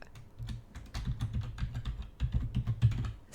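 Keys tapped on a computer keyboard in quick, irregular bursts with short pauses, close and fairly quiet.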